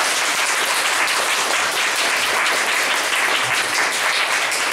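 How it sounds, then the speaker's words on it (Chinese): An indoor audience at a human rights talk applauds loudly and steadily, a dense wash of clapping that runs unbroken for several seconds. "然后我们再热烈掌声谢谢他哈"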